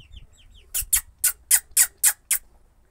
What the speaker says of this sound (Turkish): Ay civcivler.